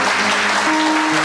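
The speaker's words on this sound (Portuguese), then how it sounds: "Vamos aplaudir essa palavra, gente, com muita força?" Dense, continuous applause from a youth retreat audience fills the space loudly and evenly, with no pauses.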